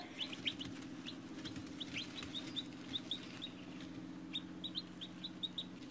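Newly hatched baby chicks in a brooder under a heat lamp give repeated high, thin peeping chirps in short bursts over a steady low hum, fairly quiet and close.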